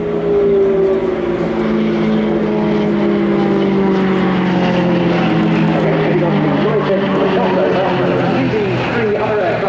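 Royal Jordanian Falcons Extra 330LX aerobatic propeller planes roaring past at an airshow, a loud continuous drone with engine pitch sliding downward as they pass, under commentary.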